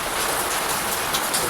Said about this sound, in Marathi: मस्त पाऊस पडतोय बरं का.